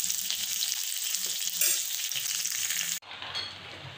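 Potato and pointed gourd pieces frying in a little oil, a dense, close sizzle with stirring scrapes that cuts sharply to a quieter hiss near the end.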